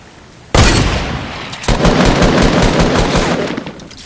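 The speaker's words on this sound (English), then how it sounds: "Gunshots." Sustained gunfire and rapid machine-gun bursts erupt suddenly after a quiet moment and continue loud and dense, with a sharp initial blast followed by rattling volleys.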